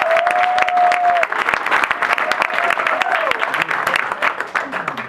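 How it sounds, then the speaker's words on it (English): A crowd at an urban herbology talk in Amsterdam claps warmly to welcome the speaker, a steady, close, dense applause lasting several seconds with a few voices mixed in. "Please give her a warm applause"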